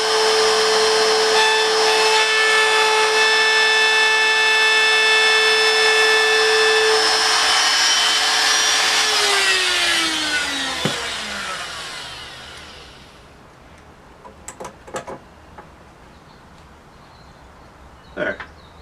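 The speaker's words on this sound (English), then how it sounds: "I'm just going to router out the little mortises here for the lock sets." A router cuts lock set mortises into the edge of a French door laid on its side, a loud high whine holding steady and then winding down as the motor spins to a stop, followed by a few light knocks.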